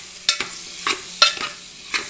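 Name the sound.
stirring boiled pullaganda pieces into chili paste in a pan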